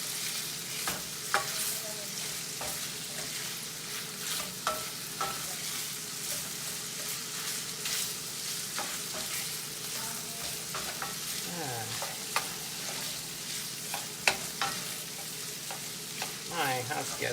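Cut-up sausage frying in a cast iron skillet, a steady bright sizzle broken by repeated scraping and clinking as the pieces are stirred, close and continuous with no talk.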